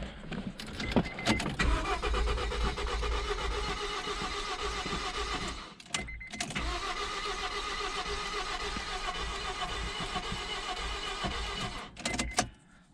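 A Honda car's engine cranks over and over without catching, the starter whirring steadily for several seconds, breaking off briefly, then grinding on again, close and loud with no speech.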